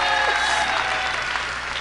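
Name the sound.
audience applause at a concert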